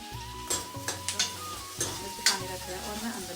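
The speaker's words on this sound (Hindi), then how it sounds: "मैं अंदर ही बना रही हूँ किचन में सब्जी" Vegetable curry cooking in a pan on a gas stove in a home kitchen: repeated scraping stirs at an irregular pace over a steady sizzle of frying, close and moderately loud, with no talking.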